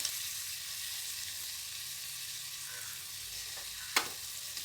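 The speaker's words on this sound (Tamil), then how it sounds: "இப்போ தக்காளி போட்டு வதங்கிட்டுருக்கு" Tomatoes sauté with spices in hot oil for a mushroom biryani, a steady soft sizzle throughout with a single sharp stir or utensil clack near the end, no talking.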